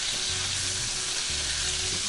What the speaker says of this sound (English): Keep on turning your chicken until it's brown on both sides.